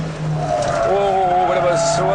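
A BMW M3 E30 engine revs high on a race track toward the hairpin, a rising engine tone heard from inside the car beneath steady talk.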